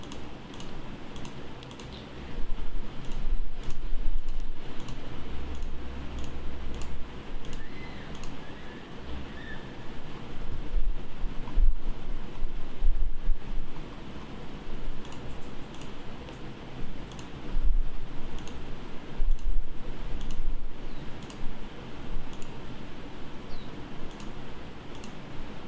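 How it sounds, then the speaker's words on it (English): Mouse clicks while placing lighting fixtures in Vectorworks software, a long run of sharp, close clicks, irregular but frequent and sometimes in quick pairs, over a low steady hum. "I'm going to head over to the next truss and continue clicking."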